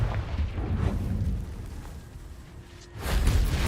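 A Confringo fire spell in Hogwarts Legacy explodes with a low booming burst, followed by a quieter rumbling stretch and then a second strong blast near the end.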